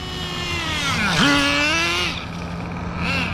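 A Thunder Tiger Tomahawk nitro RC car with a .18 engine screams at high revs and rises sharply in pitch as it powers through a slide. The whine is loud and close and fades slightly toward the end.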